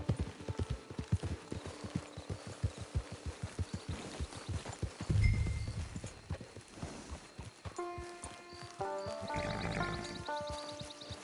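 Horse hooves clip-clopping in the video game Red Dead Redemption 2, a steady close rhythm of hoofbeats that slows and gives way to brief tonal chimes near the end.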